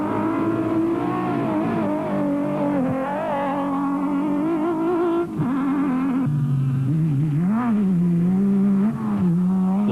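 A Nissan four-wheel-drive rally car in an off-road desert race powers through a muddy section, engine droning and revving steadily up and down at close range throughout, with no talk.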